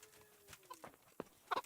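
Chickens cluck around a coop in the medieval game Kingdom Come: Deliverance, giving a few short, scattered calls, faint and close, with a louder burst of clucks near the end.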